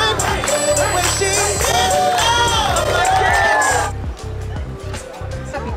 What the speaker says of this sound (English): We're just gonna push on through these crazy crowds